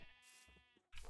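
A Minecraft sheep bleats in a short nasal wavering call, followed by a second bleat starting right after a brief gap, faint and alone without talk.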